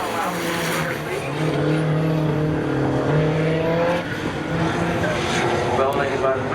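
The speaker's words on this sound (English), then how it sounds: "And they're off again. Camaro out to their lead." A 1990 Eagle and a 1998 Chevy Camaro launch side by side in a spectator drag race at Seekonk Speedway, loud engines roaring and rising in pitch under continuous crowd and announcer talk.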